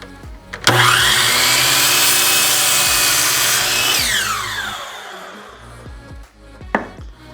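A power saw cuts through a wooden 2x4 board in one sustained, loud, close whine that runs for several seconds, then winds down. A single sharp knock follows near the end.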